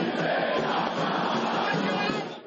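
São Paulo fans at the Morumbi greeting the team bus, a loud continuous roar of a large crowd cheering and chanting close by.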